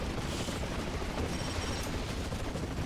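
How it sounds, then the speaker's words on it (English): Penetrator missiles firing in the arcade brawler Double Dragon Neon, a dense, continuous roar of blasts and rapid bursts that stays loud and unbroken throughout. "Fire the penetrator missiles."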